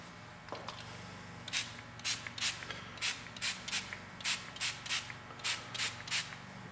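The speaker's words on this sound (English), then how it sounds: "let's get a little bit more spray on them" A handheld spray bottle mists test pieces with about eleven short, sharp squirts in a steady rhythm over a low background hum.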